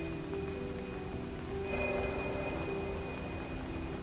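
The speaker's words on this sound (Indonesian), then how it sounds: "Gwen mendengar suara telepon berdering dan bergegas mencarinya." A telephone rings in a scene from the horror film Black Phone 2. The tone is faint and steady, with a small swell in the middle, over a low room hum and no voices.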